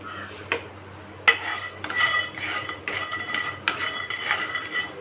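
Whole cloves and biryani spices dry-roast in a pan, with a spoon scraping and clinking against the metal in irregular strokes over a low, steady background hum.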